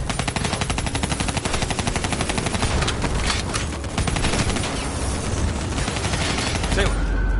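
Rapid, sustained automatic gunfire rattles as covering fire in the Black Ops 3 video game, dense and loud throughout with voices partly buried under the shots.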